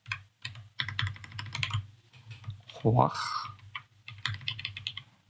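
Python code being typed on a computer keyboard, rapid clusters of close, crisp key clicks in uneven bursts, with someone speaking in between and over the typing.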